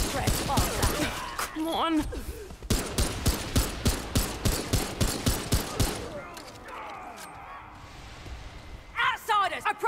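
Rapid pistol gunfire in Remnant 2, a run of about a dozen sharp evenly spaced shots fired up close, with game sounds and brief talk before and after.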